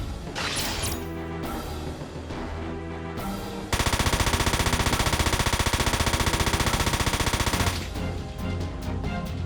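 Sustained machine-gun fire in the video game Front Mission 4 on PS2, a loud dense rattling barrage lasting several seconds between heavier crashing impacts and mechanical sounds.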